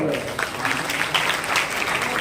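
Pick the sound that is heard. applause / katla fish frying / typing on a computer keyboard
applause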